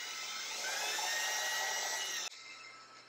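A power drill bores through wood on a solar panel roof mount atop a Subaru Outback, a close, steady high whine that cuts out abruptly near the end.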